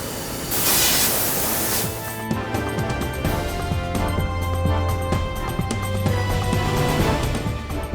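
A powder coat spray system hisses steadily as coating goes onto a steel gun safe in a factory, a loud continuous spray with clanking and machinery rumble behind it.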